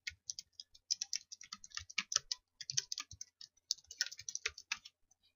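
Keys clatter on a computer keyboard as an abbreviation is typed, a close, fairly quiet run of quick irregular clicks in short bursts with brief pauses, and no voices.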